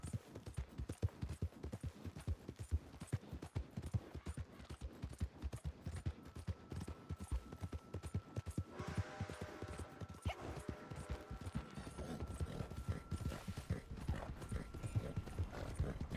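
Rapid, steady clip-clop of a horse's galloping hooves in the video game Red Dead Online, loud and close, with a brief high tonal ring partway through.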